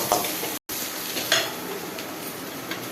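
Grated carrot and ginger sautéing in a pan for a green gram sundal, a steady soft sizzle with scraping stir strokes throughout and one brief cut-out near the start.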